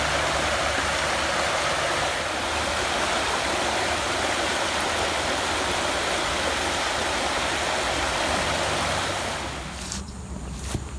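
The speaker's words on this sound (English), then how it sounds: "It's a nice little waterfall. Really soothing sounds coming out of that." Steady rushing water of a small creek waterfall pours continuously close by, dropping slightly in level near the end.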